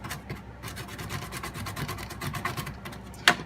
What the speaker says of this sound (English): Chipping away at this slowly.